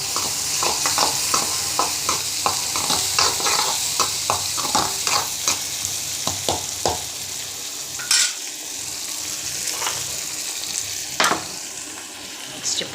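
Tomato frying in a pan with spices, a continuous sizzle under regular spatula stirs and scrapes, a few sharper metallic knocks near the end.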